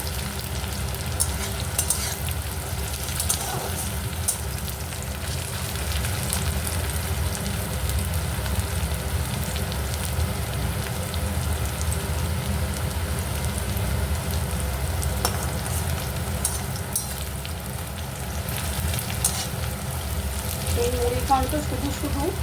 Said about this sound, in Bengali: পেঁয়াজগুলো বাদামি বাদামি করে ভেজে নেব এর মধ্যে কয়েক কুচো রসুন দিয়ে দেবো দিয়ে ভালো করে ভাজবো